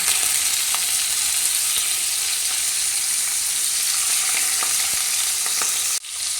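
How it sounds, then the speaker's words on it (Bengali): Prawns frying in refined oil in a wok give a steady, loud broadband sizzle with scattered small pops and crackles, dipping abruptly near the end; no voices. "এবার চিংড়ি মাছগুলোকে আমি একে একে তেলে দিয়ে দেবো"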